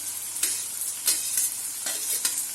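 Chopped onion and ginger hit hot oil in a pan with cumin for a spiced brinjal curry, giving a loud, steady sizzle with several sharp bursts of crackling as the pieces are stirred.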